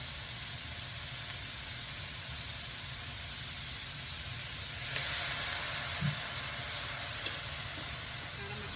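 Steady, close sizzle of soy sauce hitting cabbage in a frying pan for Filipino pancit, a constant bright hiss with a couple of faint clicks of a utensil.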